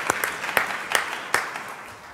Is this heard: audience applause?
yes